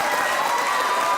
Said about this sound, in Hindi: तालियां होनी चाहिए भाई राबिया के लिए।